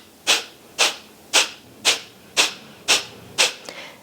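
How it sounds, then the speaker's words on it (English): Seven sharp, breathy nasal exhalations of kapalabhati yoga breathing in a steady rhythm about every half second, close and forceful, with quiet pauses between. "you'll hear an audible sound as you forcefully exhale all the breath out of your nostrils"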